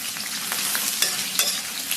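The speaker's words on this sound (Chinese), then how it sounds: "锅里边来点五花，简单煸炒一下，炒出油脂" Pork belly sizzles in a hot wok as its fat renders, a bright crackling hiss broken by sharp spatula scrapes and stirring clatter, near and continuous.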